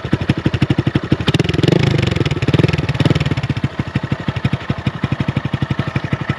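A Honda Grom motorcycle engine with an aftermarket carbon fiber exhaust idles and blips nearby, its loud, raspy exhaust pulsing rapidly like a dirt bike, with a brief rev swelling partway through.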